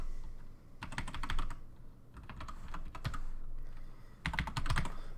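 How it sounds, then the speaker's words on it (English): Typing a Windows product key on a computer keyboard, with bursts of close, rapid key clicks separated by short pauses and no voices. "It's going to ask for the product key, so I'm going to go ahead and type that in right now."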